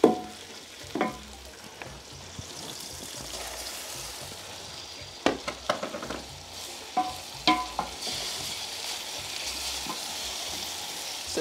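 Onions and tomatoes fry in a pan with a soft, continuous sizzle, broken by occasional scraping stirs and utensil knocks, fairly quiet and close with no talking.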